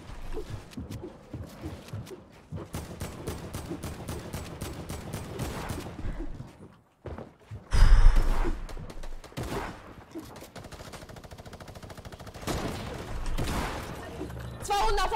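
Gunfire in a Fortnite FNCS tournament match: rapid bursts and single shots crack through continuous game noise, with a loud, heavy blast near the middle and people talking over the action.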